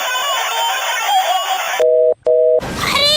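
A phone rings with a steady electronic two-part tone and a brief break between, following a stretch of busy, noisy background.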